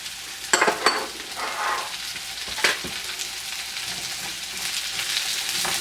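Zucchini hits a hot pan and fries with a steady close sizzle, opening with a few sharp clatters as it drops in and a later stir, no talking.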